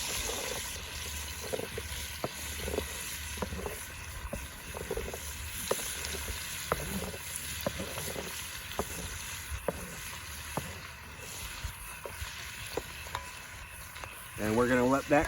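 Pork and vegetables frying in a pot over a campfire outdoors, a soft steady sizzle under wind noise with regular clicking or tapping, and a person speaking near the end.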